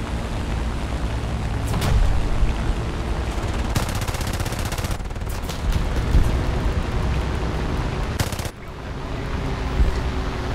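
Aircraft guns firing in War Thunder, loud sustained bursts of rapid automatic fire in several long strings over steady engine noise, close and dominant, with no talking.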